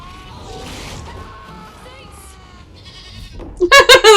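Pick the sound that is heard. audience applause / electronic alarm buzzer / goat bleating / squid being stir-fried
goat bleating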